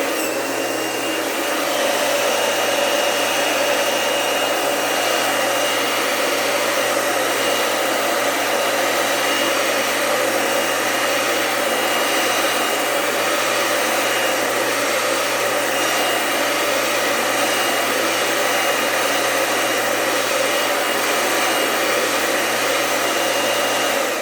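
A hair dryer runs steadily on wood being dried, a continuous close whirring roar that holds even and loud throughout with no talk.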